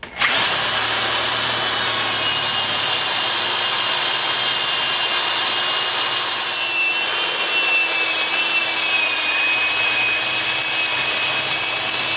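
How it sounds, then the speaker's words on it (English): A power drill whines loudly and steadily for several seconds as it bores a hole while making a cam lock bar for an Audi B5 S4 2.7T, the pitch holding nearly constant with slight dips. "move it over to here and drill my hole size"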